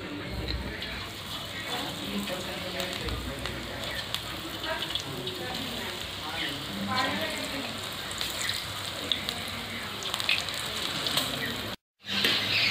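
Besan-coated okra pieces frying in hot oil in a kitchen, a continuous crackling sizzle with scattered pops, steady throughout, with a brief dropout near the end.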